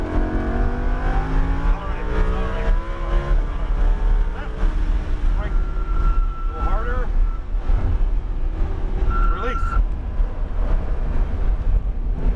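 A Lamborghini Huracan LP 610-4 accelerates hard around Raceway Park of the Midlands, its engine note climbing through gears with rising whine, loud and close under heavy wind buffeting, with brief talk over it.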